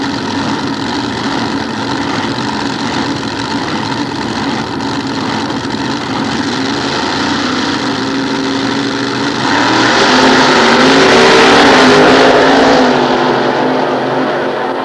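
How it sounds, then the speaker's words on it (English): Nostalgia drag race at Sears Point, a 427 Chevy against a 433 Chevrolet, engines roaring loudly and continuously, swelling into a louder, brighter surge about two-thirds through before easing back. "427 Chevy versus 433 Chevrolet."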